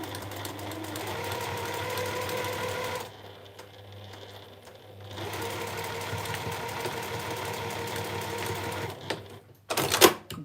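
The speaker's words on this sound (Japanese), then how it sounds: "ミシンでやるの大丈夫そうですね" A sewing machine runs steadily while stitching a spring-clasp pouch with a triangular gusset, whirring continuously with a brief pause in the middle, then a couple of louder clicks and knocks near the end.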